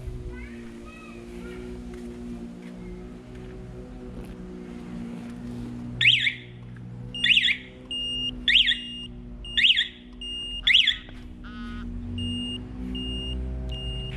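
Five loud, sharp electronic beep bursts from a Yamaha R1 motorcycle's alarm repeat at a steady pace over a low engine-like hum, with a faint voice earlier on.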